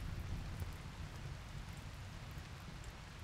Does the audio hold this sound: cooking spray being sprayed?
no